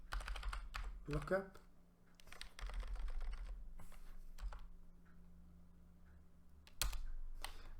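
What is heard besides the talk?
typing router commands on a computer keyboard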